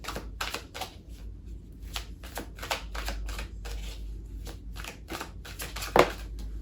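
A deck of oracle cards is shuffled by hand, giving quick, dense riffling and flicking bursts over a steady low hum, close and fairly quiet, with one sharper snap near the end.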